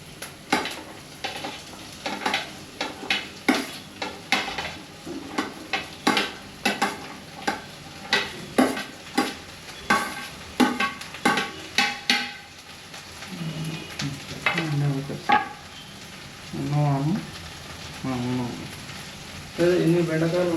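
Okra (bendakaya) fries in a pan while a spatula scrapes and stirs in quick rhythmic strokes over a steady sizzle; a person talks in the later part.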